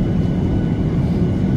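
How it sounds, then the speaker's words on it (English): Loud, steady airplane cabin roar on a six-hour WestJet flight from Calgary to Cancun, a constant low engine and air rush droning without a break and with no voices. "So it's a 6 hours flight from Calgary to Cancun."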